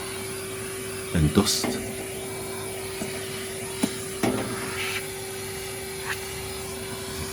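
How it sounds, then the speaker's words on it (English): A Henry Hoover vacuum cleaner hums steadily as it sucks fluff out of a Candy integrated condenser tumble dryer, with a few louder rattling bursts as debris goes up the hose, while a person speaks briefly. "So I'm just going to get my Henry Hoover and just back up all of this fluff"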